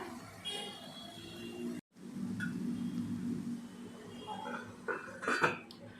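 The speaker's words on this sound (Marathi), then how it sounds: "आता आपण दोन मिनटासाठी झाकण लावूया ह्याला" A lid clanks down onto a pan of grated karela thecha (bitter gourd) near the end, a brief metallic clatter after a steady low kitchen hum and soft cooking noise.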